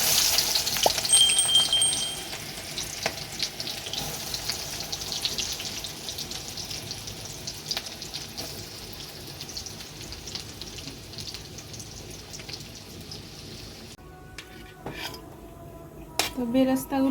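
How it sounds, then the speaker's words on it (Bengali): Sliced onions frying in hot oil for mutton biryani beresta, a steady close sizzle with occasional clinks of a utensil against the pot, busier stirring clatter toward the end. "তো বিরিয়ানির জন্য বেরেস্তাগুলো ভেজে নেব, তার জন্য তেল দিয়ে দিলাম।"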